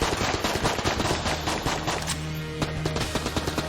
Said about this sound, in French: Bon là du coup, voilà, c'est des projections de balles.